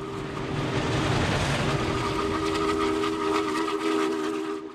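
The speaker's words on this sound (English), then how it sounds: "the Challenger class, the largest and most powerful steam locomotive of its day" A Union Pacific Challenger class steam locomotive, a huge articulated engine, sounds a steady, sustained whistle over the heavy rumble of the train rolling past at close range, with no talking.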